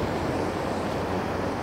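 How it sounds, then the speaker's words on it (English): Ocean waves crash on a beach as a steady, loud wash of surf with wind rumbling over the microphone, no voices. "you get like the little bit of the water mist from the ocean waves crashing"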